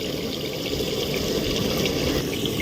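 Water is poured into a clay pot of browned chicken curry, a steady continuous splashing and gurgling pour heard close up with no talking.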